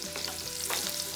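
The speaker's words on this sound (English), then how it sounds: "Saute this." Ginger sautéing in a hot pan for veg hakka noodles gives a steady close sizzle with a few stirring scrapes, no talk.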